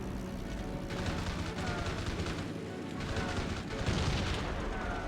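Rapid cannon fire from fighter aircraft in the PS2 game Heroes of the Pacific, Battle of Midway, strafing Zero fighters: loud, continuous bursts of gunfire with deep booms, swelling near the end.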